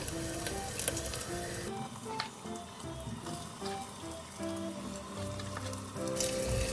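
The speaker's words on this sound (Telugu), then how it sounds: "మనము మ్యారినేట్ చేసి పెట్టుకున్న చికెన్ దాంట్లో వేసేసుకోవాలండి మ్యారినేట్ చేసిన చికెను ఇదంతా అందులో వేసేసుకుంటున్నా" Marinated chicken goes into a hot pan for curry with a close, crackling sizzle, and scattered pops and clatters of utensils ride over the steady frying.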